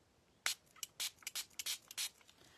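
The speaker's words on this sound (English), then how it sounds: "I'm just spraying water on my right hand" A spray bottle squirts water onto a right hand in a series of short, sharp hissing bursts, some single and some in quick pairs, close and clear against a quiet room.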